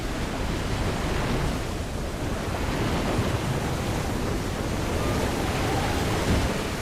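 Heavy surf and crashing waves as Snake drops into the sea in Metal Gear Solid 2, a steady, loud, broadband wash of water roaring throughout with no voices.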